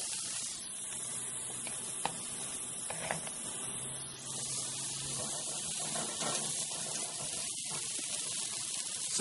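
Meat sizzles on a hot cooking surface with a continuous spitting hiss, a louder burst early on, then steady crackle with occasional pops.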